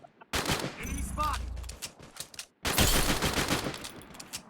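Bursts of rapid automatic gunfire from the Free Fire Max video game, a loud volley, a pause, then another sustained burst, with a voice briefly heard over it.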